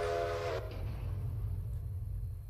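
Steam locomotive whistle in the Railroader video game, a short tonal blast at the start that stops abruptly, followed by a low steady rumble of the train running beneath.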